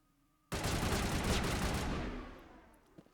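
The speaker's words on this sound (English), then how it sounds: "You're missing your shots, Garrus." Sustained burst of heavy gunfire in the Mass Effect firefight at the UNC: Colony of the Dead mission, starting abruptly and loud, rolling on for about two seconds, then tailing off into echoing decay.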